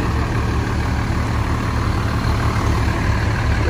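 A fire engine idles close by at a small fire in a three-story frame house in Newark, a loud, steady low diesel rumble that holds unchanged throughout the short stretch.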